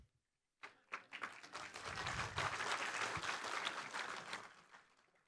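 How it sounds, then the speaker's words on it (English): Applause from an audience at a workshop in Chennai, Tamil Nadu starts abruptly after a brief silence, swells into steady dense clapping, then begins to thin toward the end. "Nice that you are clapping for Vanakkam also"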